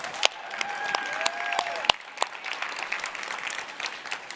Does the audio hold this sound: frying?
no